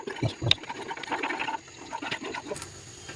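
Falooda mix comes to a boil in milk in a pot, with soft bubbling, burbling and a few clinks heard close by at moderate volume and no talking.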